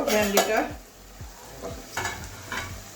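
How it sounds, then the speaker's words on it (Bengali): Okra (bhindi) for a mung dal dish is stirred in a pan, with a close, steady sizzle and a run of rhythmic spatula scrapes, sharper and louder at the start. "ভেন্ডিটা আমার ভাজা হয়ে গেছে"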